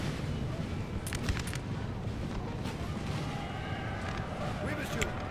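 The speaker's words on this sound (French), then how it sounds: "Que l'artillerie de mon allié tire dans mes troupes." Artillery booms in the Napoleon: Total War video game, several muffled, sharp reports scattered through the stretch over a busy battle din, with someone talking over them.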